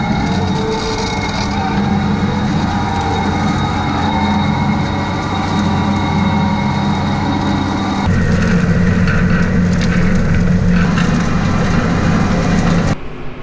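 A 340 horsepower Case IH Magnum tractor pulling a deep ripper through a field, its steady heavy diesel drone loud and continuous throughout with a slight change in tone partway, no talk over it.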